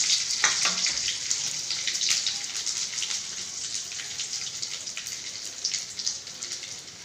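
Steady, crackling sizzle of mustard seeds and curry leaves frying in hot oil, bright and continuous, with scattered pops throughout and no voices.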